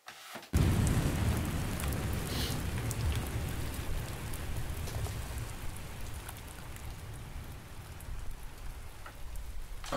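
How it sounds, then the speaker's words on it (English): Steady rain in a music track, a dense close hiss of falling drops that sweeps across the stereo field, starting abruptly and continuing evenly throughout with no voices. "the rain from one ear to the other"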